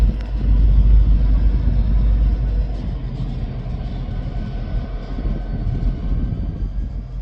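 Locomotive 502 running alone on the railway near flood waters, heard as a steady, heavy low rumble from a distance that swells slightly early on, then holds even and continuous, with no voices.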